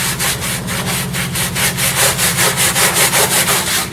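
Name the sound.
scrubbing car carpet upholstery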